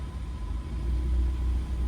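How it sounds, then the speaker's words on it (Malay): A 2018 Proton Iriz 1.3 Executive settles into a steady, low engine rumble after starting, continuous and close, with no talking. "Sekarang kita start kereta."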